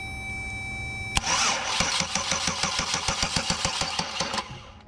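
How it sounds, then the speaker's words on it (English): A car's starter motor engages and cranks the engine in a rapid, even rhythm for about three seconds after a sharp click, the engine trying but failing to catch, loud and close with no talk. "Trying to start. Yeah, your starter's engaging."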